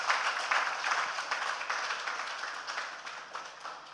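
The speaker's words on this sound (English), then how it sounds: "I think he deserves a round of applause." Applause from an audience at a design and build expo, a moderate steady wash of clapping that holds for about four seconds, tapering slightly toward the end.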